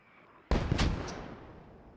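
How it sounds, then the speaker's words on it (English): Mortar fire in Post Scriptum lands as one sharp, booming blast with a few cracks right after it, then rumbles off into a long fading tail. No voices are heard. "There's not going to be anything left of the sector after these"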